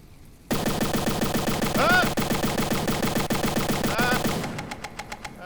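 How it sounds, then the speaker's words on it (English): Cannon fire from a ship in the video game From the Depths, a dense, sustained run of rapid shots that rings out loud for several seconds, then trails off into scattered pops. "I'm going to test my cannon using you."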